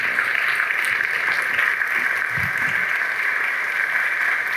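Audience at a racing conference applauding after a keynote speech, steady clapping throughout from a room of people with a faint hint of voices.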